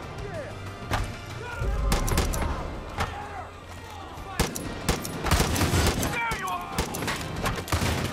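Bursts of automatic and single gunfire from the Far Cry 5 video game crack out in uneven volleys with thumps and impacts, a player talking underneath at moderate level.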